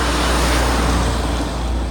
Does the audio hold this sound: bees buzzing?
no